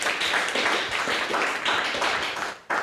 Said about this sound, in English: Oh yes, rounds of applause.